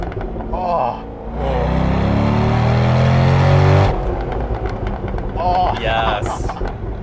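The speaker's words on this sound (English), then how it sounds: "It's a good exhaust note. It's not too loud." A C6 Corvette's exhaust rumbling from inside the car while driving, a loud, deep note that swells as it accelerates and then settles back, with people talking over it at the start and end.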